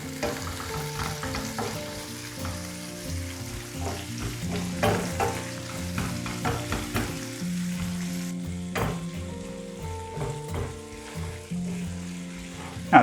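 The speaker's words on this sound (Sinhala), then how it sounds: "දැන් තක්කාලි ටිකත් මෙහෙම කලවම් කරගෙන විනාඩි 2ක් විතර පොඩ්ඩක් කුක් කරගන්න ඕනේ" Chopped tomatoes are stirred into tempered spices in a cooking pan for a dry fish curry, giving a continuous close sizzle broken by clinks and scrapes of a utensil, with a faint melodic background underneath and no speech.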